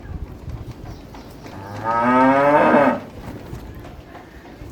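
A single long, loud cow moo lasting about a second, from a cow shed cooled by air coolers in 50°C Delhi heat, standing out clearly over quiet background noise.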